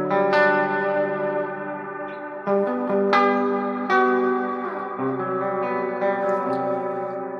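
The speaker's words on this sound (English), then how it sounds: "On this setting, it has a whole lot of modulated reverb, a lot of like kind of chorus-like sounds in the background of the repeats." A guitar run through a modulated reverb pedal, with sustained chiming tones and chorus-like shimmering repeats that swell, overlap and trail off, loud and close, with no voices.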